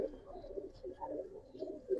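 A Giribaz pigeon of an old black-necked line cooing in a loft, soft low rolling coos repeating over two seconds, faint and close.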